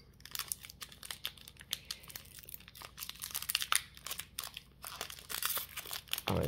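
Plastic film peels and crinkles off a Pokémon card in a series of close, quiet, irregular crackles and ticks, with a louder rustle near the end.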